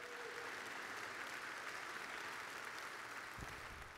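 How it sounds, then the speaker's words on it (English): A church congregation applauds during a sermon, a faint, even patter of many hands clapping steadily throughout. "Can we clap for Jesus this morning who built his church?"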